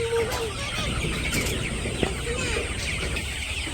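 Chickens clucking nearby in short, irregular calls over a constant low background hum.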